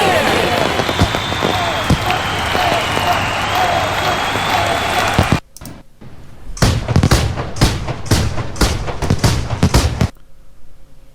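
A loud wash of crackling fireworks sound effect fills the first half, then a series of sharp bangs and pops repeats steadily before fading to quiet, for a New Year countdown jingle.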